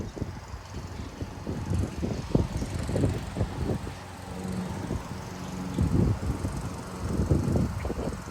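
Thirty-mile-per-hour wind gusts in Frisco, Texas, rushing and buffeting outdoors in uneven surges, with louder swells of gusty rumble and microphone buffeting rising and falling over a quieter steady airy background.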